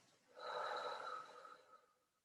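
A single deep, drawn-out exhale during yoga breathing, close and breathy, swelling quickly and then tapering off into quiet.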